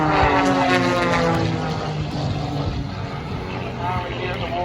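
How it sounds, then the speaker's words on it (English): Propeller warbird aircraft pass over an airshow at Scone, a rough, droning engine roar that shifts in pitch as they fly by, with an announcer talking over it. "Now we get the Warbirds over scone."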